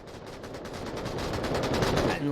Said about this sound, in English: And lots of gunfire just trading down this.